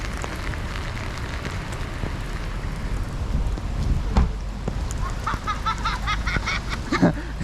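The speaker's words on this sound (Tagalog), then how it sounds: "ang lakas na naman ng ulan" Heavy rain falling outdoors on a trip out to see sea lions: a steady, broad hiss and patter with close splashes, joined near the end by honking goose-like bird calls.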